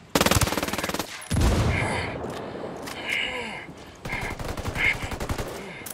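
Rapid automatic gunfire rattles in a tight burst at the start of a shooter video game, followed by heavier shots, muffled impacts and scattered bursts mixed with game effects; a voice speaks briefly amid the action.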